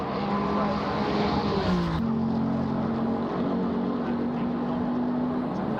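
Ferrari GT3 race car engine in a racing video game at Valencia, a steady droning engine note that shifts pitch partway through, with a gear change, running continuously under a faint background commentary voice.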